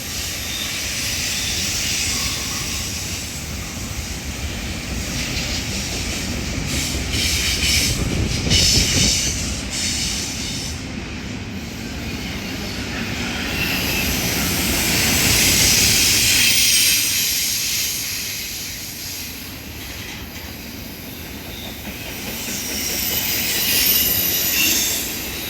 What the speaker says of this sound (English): 155 is a daily intermodal from Fairburn, Georgia to Memphis, Tennessee.